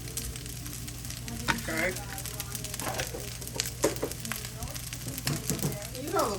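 Butter sizzles and fries in a pan with dirty rice and sausage, a steady close crackling hiss with occasional stirring scrapes, while a voice briefly speaks over it.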